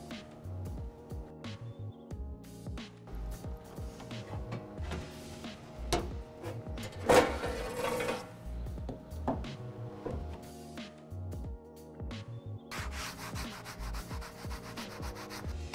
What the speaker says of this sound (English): we've got an etched phoenix made with the xTool P2